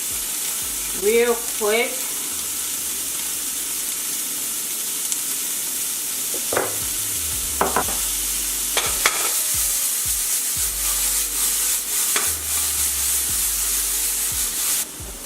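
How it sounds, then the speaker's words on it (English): Onion and celery sizzle steadily in a hot pan for stuffed pork chops, with a continuous frying hiss, a few scrapes of stirring, and a brief voice near the start. "So I saute the onion and celery"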